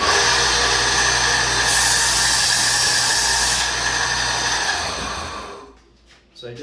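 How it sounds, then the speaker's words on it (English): A belt sander grinds down a kit knife handle scale along the belt's edge, a loud continuous close-up whir with shifting pitch as the piece moves, fading out at the end. "I'll just use the edge of my sander to take down a little bit and then move it over"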